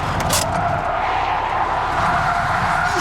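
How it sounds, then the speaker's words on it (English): Car sliding through a 180-degree handbrake turn on a stunt-driving course, a sustained loud engine roar with a broad hissing tire scrub running steadily through the whole short stretch. "I love my job because I can now do 180-degree handbrake turns in my sleep"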